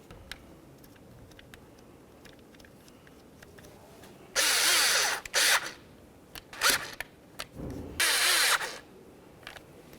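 A power drill runs in several short bursts, tightening the mounting bolts on a driver's side master window switch of a 2004-2015 Nissan Titan. Loud whirring spurts are separated by quiet gaps and light ticking handling noises, with no talk.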